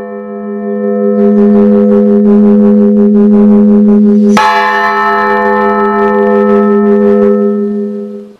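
Church bells ring steadily in a village belfry, a sustained humming peal with quick clustered strokes, then one sharp loud strike midway whose bright ring decays over the remaining seconds; no talking.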